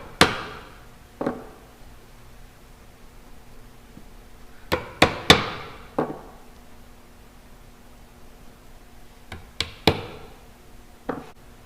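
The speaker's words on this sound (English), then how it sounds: "gently tap your bushings into each of the pre-drilled holes for the tuners" Tuner bushings are gently tapped into pre-drilled holes in a cigar box guitar headstock: quiet, sharp taps come singly and in small clusters, separated by pauses.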